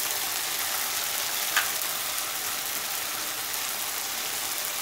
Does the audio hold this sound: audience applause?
no